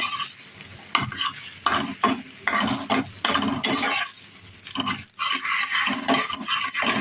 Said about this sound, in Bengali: এই যে ডিমটা ভেজে দিচ্ছি লবণ আর হলুদ দিয়ে